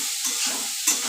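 Bitter gourd and potato pieces with turmeric fry in oil, a loud, dense sizzle close by with brief stirring scrapes rising and falling over a second, no voices.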